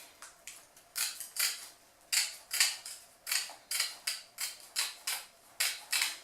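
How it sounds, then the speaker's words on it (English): Scissors cutting a 5 cm fabric strip on the bias for a fascinator, a run of crisp, close snipping strokes in a fairly regular rhythm, each a short rasping cut, heard alone without talk. "So I'm going to just cut this strip."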